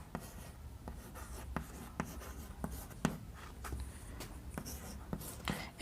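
Chalk or marker strokes on a board tap and scratch in short irregular bursts during a class 9 polynomials lesson, fairly quiet and close, with no talk.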